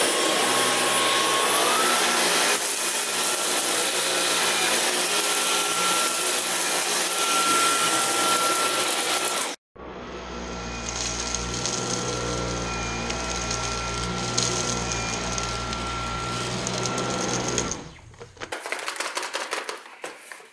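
Dyson V11 cordless vacuum with its turbo tool runs over soft plush carpet, a loud steady whine and roar that briefly cuts out, restarts with a deeper rumble, then falls away near the end.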